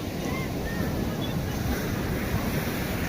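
Sea waves wash continuously onto Ponto do Ouro beach in Mozambique, a steady, full surf roar with wind buffeting the microphone throughout.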